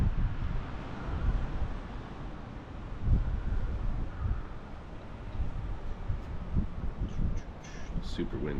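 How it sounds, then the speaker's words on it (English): Strong wind on a rooftop at sunrise buffets the microphone in a continuous low roar with gusty surges, and a few faint bird calls come near the end. "Super windy."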